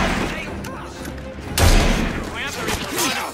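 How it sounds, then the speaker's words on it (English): Gunfire in the video game Assassin's Creed Syndicate, with a heavy boom near the middle and scattered shots mixed into a dense, noisy game soundtrack while people talk over it. "Oh, he just got shot in the face."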